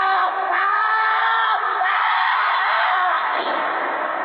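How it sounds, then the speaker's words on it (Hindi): A man's loud, sustained scream in a horror audio drama, harsh and piercing, holding steady at full volume for several seconds with no other sound around it. "कुछ देर बाद लेखक की एक जोर से चीख सुनाई देती है।"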